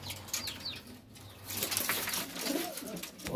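Pigeons cooing and fluttering nearby, with soft wingbeats and rustling among a busy flock, no talking.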